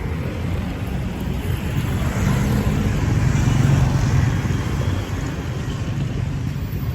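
Busy Saigon street traffic heard while crossing a road, a steady loud wash of engines and road rumble close by, swelling slightly midway, with no talk.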